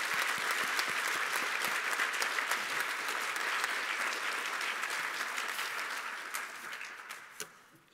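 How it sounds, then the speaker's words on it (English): Sustained applause from the audience at a 2021 nursing pinning and commencement ceremony, a dense, steady patter of many hands that runs throughout and thins toward the end. "So I want to give them another round of applause."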